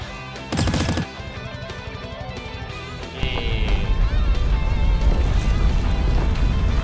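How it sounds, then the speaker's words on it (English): Rapid submachine gun bursts in a video game, a short dense volley early on, then layered game sound effects and music building loudly afterward. "Yeah, SMG time, baby."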